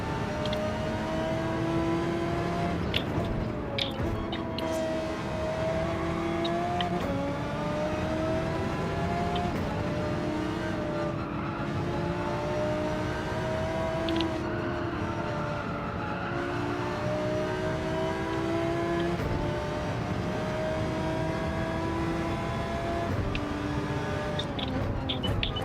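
An Audi R8 and a Porsche race in Gran Turismo 7, engines droning and revving continuously with rising and falling pitch through gear shifts, close and steady for the whole stretch without speech.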